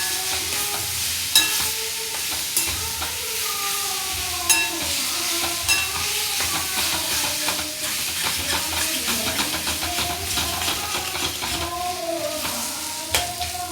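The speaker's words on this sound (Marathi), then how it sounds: "जे स्मॅश करून घेतलेलं ते यात घालूया व्यवस्थित परतून घेऊया" Mashed roasted eggplant being stir-fried in a hot pan for a Marathi bharit, with steady sizzling and hissing and repeated scraping stirs, alongside background music.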